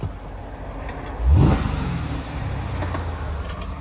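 A 2017 Jeep Grand Cherokee SRT with big exhaust tips revs once, a loud swelling blip around the midpoint that settles back into a steady idle rumble, heard close by with no talking.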